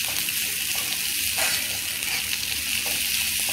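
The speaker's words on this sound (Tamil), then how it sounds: "இன்னும் ஒரு 1 மினிட் அளவுக்கு இந்த வெங்காயம் வதங்கிக்கிட்டோம்." Onions sautéing in a pan for parappu urundai kuzhambu give a steady, close frying sizzle that runs throughout with little change, and no voices.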